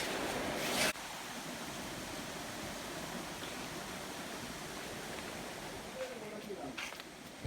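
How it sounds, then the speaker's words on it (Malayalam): A forest stream rushes between rocks near a resort, a loud, steady broadband flow from close by. A brief clatter interrupts it near the start. "അരുവി പാറക്കൂട്ടങ്ങൾക്കിടയിലൂടെ വരുന്ന അരുവി"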